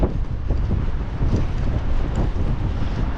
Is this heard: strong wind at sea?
yes